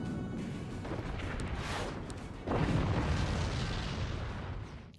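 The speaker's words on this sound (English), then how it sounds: "get all these great explosions" Rumbling cannon explosions from the game Forts, dense booming blasts overlapping one another, with a heavier burst midway.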